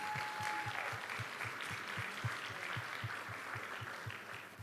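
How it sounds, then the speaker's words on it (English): A town hall audience applauds a speaker, a broad crowd clapping at a distance, with a steady, rhythmic low thump running beneath the clapping throughout. "could we give her a round of applause to thank her for that?"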